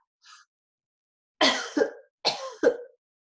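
Two pairs of sharp, close coughs, each a quick double hack, after a faint small sound at the start; otherwise quiet.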